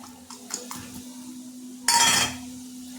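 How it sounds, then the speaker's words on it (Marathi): Coriander is stirred into a bitter gourd stir-fry in a pan: a few light clinks of a spoon, then a brief burst of scraping and soft sizzling up close. "कोथिंबीर टाकून छानपैकी मिक्स करून घ्यायची."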